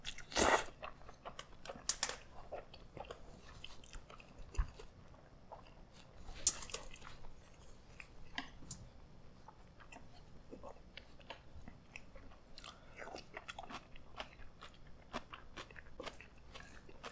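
Crunchy bites and wet chewing of spicy Korean cold noodles, close and fairly quiet, with irregular sharp crackles and soft squishy mastication spread over the whole stretch and no talking.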